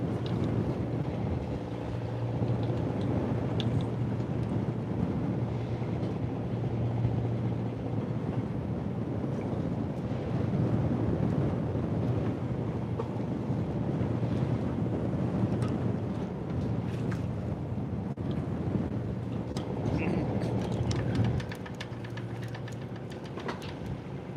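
Steady wind buffeting the microphone on a fishing boat off Alaska, with a constant low rumble filling the clip for over twenty seconds before easing slightly near the end.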